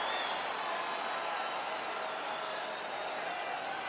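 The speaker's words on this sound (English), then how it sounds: "So the crowd voicing its appreciation after that round." Crowd applause and cheering in a UFC video game fight simulation after a round, a steady, moderately faint wash of clapping and crowd noise with no speech.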